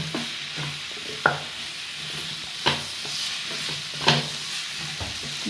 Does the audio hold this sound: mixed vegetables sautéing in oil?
yes